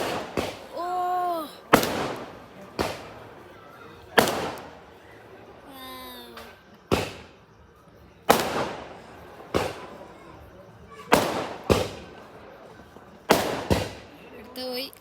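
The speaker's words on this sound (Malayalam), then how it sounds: "നമ്മുടെ റിസോർട്ടിലെ ആൾക്കാർ ന്യൂ ഇയർ ആയതുകൊണ്ട് ഇവിടെ വെടിക്കെട്ട് എടുത്തിട്ടുണ്ട്" New Year fireworks at a resort in Kannur, Kerala: a string of sharp, loud bangs, each ringing out and fading, spaced irregularly a second or two apart. Excited voices and shouts come between the blasts.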